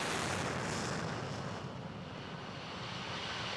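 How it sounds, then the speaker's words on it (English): Roaring jet engine of a chase aircraft at full power on its takeoff roll, at the F-22 first flight event: a broad, steady, loud rush of noise that eases slightly and holds, with no voices. "He pushes the power up and begins his takeoff roll."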